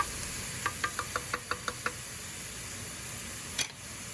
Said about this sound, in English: I'm just breaking mine up with the wooden spoon